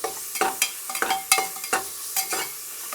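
Onions for mutton biryani fry toward golden brown, sizzling under repeated scraping stirs of a spoon against the pot, close up and rhythmic with no voices.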